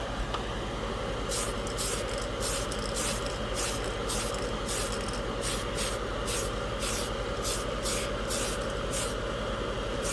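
Spray can primer hissing onto a scale model in a steady, close stream, broken by short repeated bursts as the nozzle is pressed and released for a final coat.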